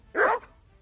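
A single sharp dog bark from a companion dog in the medieval game Kingdom Come: Deliverance II, loud and close, lasting about a quarter second before quiet background.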